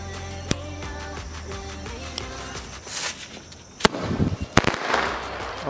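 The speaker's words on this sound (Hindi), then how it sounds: "और ये ऊपर जाके दो बार फूटा" A double-sound Diwali firecracker shoots up and bursts twice in the air, two sharp loud cracks a second apart, followed by crackling and rumbling echoes outdoors.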